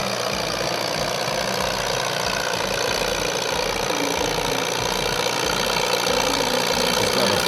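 An antique tractor engine works under throttle at a county fair tractor pull, a loud, constant, rumbling drone that holds without a break.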